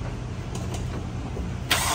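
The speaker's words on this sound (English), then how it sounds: "The new starters just sound so sweet." A new starter motor cranking a Honda S2000 engine, a steady whirring churn that holds for about two seconds before a sharp burst at the end.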